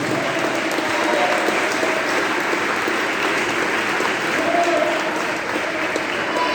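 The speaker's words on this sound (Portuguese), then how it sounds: "Desocupem as mãos, batam palmas e glorifiquem a Jesus." A church congregation claps together in sustained applause, a dense, steady wash of many hands filling the sanctuary at even loudness throughout.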